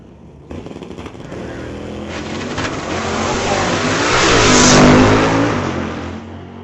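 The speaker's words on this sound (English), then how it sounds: "Dan Gray driving that 83 Ford pickup. John in the 77 Camaro." A 1983 Ford pickup and a 1977 Camaro launch side by side at a drag strip, engines revving hard and swelling into a loud, sustained roar that builds and peaks before easing slightly.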